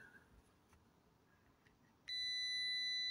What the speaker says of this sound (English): Let's test it for continuity.